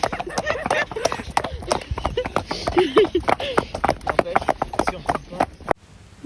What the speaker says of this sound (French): Non, c'est pas Prince Noir, c'est un truc avec un cheval arabe noir là qui fait des courses.